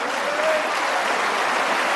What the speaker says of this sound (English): A terrific round of applause.